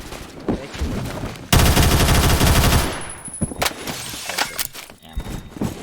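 An X95 SMG in Phantom Forces fires one loud sustained automatic burst lasting over a second, then a few scattered shots and clicks follow as someone talks.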